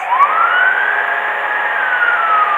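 A single loud ambulance siren tone rises and falls in one long wail, close by and steady, with nothing else over it.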